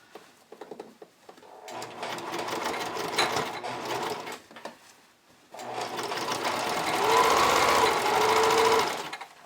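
A sewing machine with a twin needle topstitches swimwear for high-waist bikini bottoms, running in two close, loud bursts of fast whirring stitches separated by a short pause.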